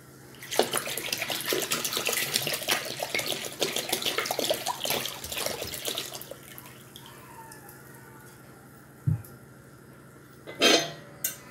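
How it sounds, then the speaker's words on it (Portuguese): Water being poured into a pot of grape juice for a hot spiced drink: a continuous splashing stream for several seconds, then quiet with a couple of brief clunks and a short splash near the end. "Então, agora nós vamos acrescentar a água."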